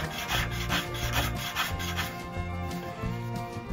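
A hand plane smooths a wooden board in repeated rhythmic strokes, each pass a dry rasping shave, close and fairly quiet, with a low tonal hum underneath.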